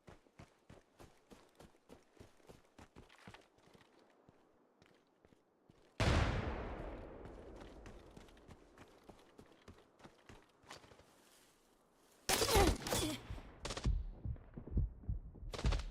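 Video game gunfire: a run of sharp, evenly spaced shots, faint and distant at first, then two louder bursts of close, heavy firing later on.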